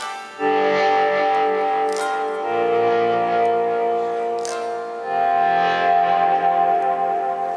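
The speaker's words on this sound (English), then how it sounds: "Maybe you can do some volume swells." Electric guitar notes swell up in volume and trail off through a Boss DD-20 Giga Delay pedal, sustained tones layering with repeating echoes into a continuous, wash-like pad with no talking.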